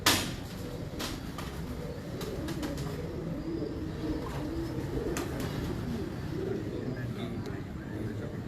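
Pigeons give low, soft coos off and on under a steady murmur of background noise, with a sharp knock at the start and scattered clicks.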